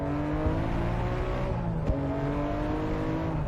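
A Nissan Skyline revs up to pass a camper, its engine note climbing in a steady rising drone, briefly dipping near the middle before pulling again, heard from close by.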